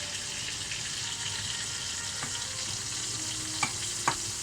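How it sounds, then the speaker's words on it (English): Meat basting in a frying pan with rosemary sizzles in a steady, close, moderate hiss, broken near the end by a couple of quick metallic spoon clinks. "we're going to start basting"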